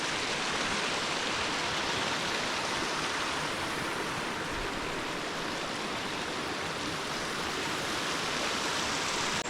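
Steady broadband rush of a stream flowing under a small bridge beside a larger one, at a mountain lake area about 2500 m up; continuous, close and even, with no voices.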